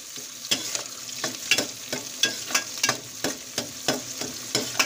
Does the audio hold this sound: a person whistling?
no